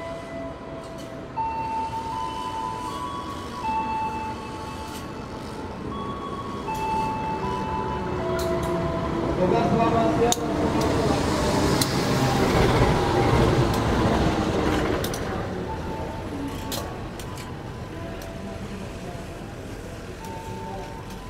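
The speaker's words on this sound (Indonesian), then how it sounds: "Itu juga bakal ada kereta yang masuk ya, kereta api Menoreh." Menoreh passenger train hauled by a vintage locomotive arriving at a station, a rising rumble and wheel noise swelling to a peak midway, with tonal horn or signal lines and a brief voice at the start.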